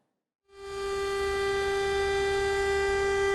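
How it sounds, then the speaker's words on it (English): An air raid siren in eastern Ukraine starts after a short silence and swells into a sustained, steady wail that holds loud and unbroken to the end. "Air raid sirens in the eastern Ukrainian region ahead of evacuation from the rebel-controlled territories of Donetsk and Luhansk."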